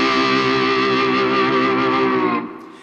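A heavily saturated, distorted electric guitar with a volume pedal pushed all the way up, a loud sustained ringing chord full of effects and chorus-like shimmer that holds steady before dropping off near the end, no talking.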